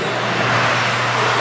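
Modified 2WD RC buggies race around an outdoor track, their motors blending into a continuous, dense, fairly loud whirring hiss that is steady throughout.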